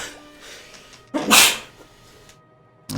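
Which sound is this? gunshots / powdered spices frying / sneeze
sneeze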